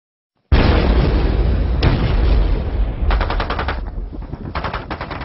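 Loud, heavy cannon fire booms in a sustained barrage, then breaks into rapid repeated bursts, close and harsh.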